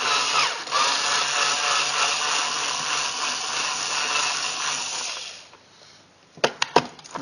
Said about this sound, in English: You don't need this little tiny drill